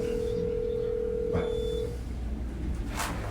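A telephone being dialed, with a steady tone held for about two seconds followed by a brief keypress-like blip, set against a noisy room background without clear talk.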